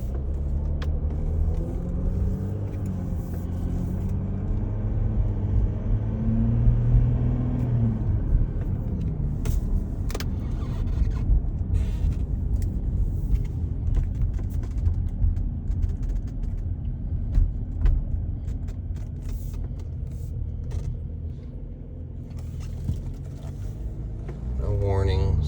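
A car driving through light morning traffic on a short drive after a cold start, its steady engine and road rumble continuous and close from start to finish, with a voice talking at times over it.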